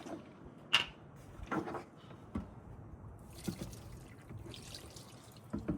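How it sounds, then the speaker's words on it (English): Water splashes and trickles into the cooling system of a 1981 Chevrolet K10 Longstepper truck, poured in short bursts, close by with small drips between pours and no talk. "Throw a little more water in it."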